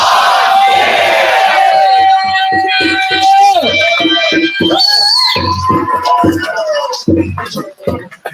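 A crowd at a royal court during the Autumn War event shouts a loud drawn-out cheer of huzzah over and over, rough massed voices in rhythmic bursts, with one voice leading and calling between them.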